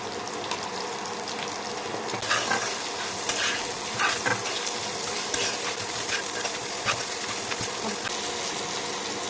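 Chopped onions with whole garam masala and salt sizzle in a pan for a duck curry, a steady close frying hiss broken by scraping, clattering strokes of a spatula as they are stirred.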